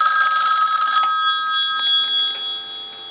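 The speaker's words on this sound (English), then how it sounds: "But I'm going to go ahead and ring it." The bell of a Western Electric 233 three-slot payphone rings in a metallic trill for about a second, then fades away in a ringing decay.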